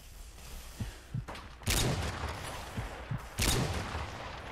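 Video game gunfire crackles in a 1v1 match on modded controllers: a few soft single shots, then two loud sharp bursts that stand out over a low background murmur, with no talk.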